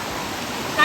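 A waterfall near Puttur pours nearby as an even, broad rushing wash, with a brief louder surge at the very end.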